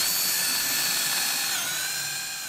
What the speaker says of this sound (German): auch kurz bohren